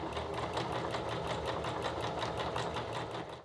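A sewing machine stitches a curtain hem with a fast, steady mechanical chatter, close by and running on its own for a few seconds before slowing at the end.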